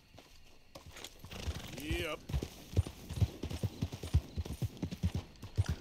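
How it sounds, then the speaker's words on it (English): Horse hooves clip-clopping at a steady walk in Red Dead Redemption 2, a Hungarian half-breed horse, fairly close and rhythmic, with someone talking over the opening and a brief whinny-like rising tone. "That's a good horse, actually."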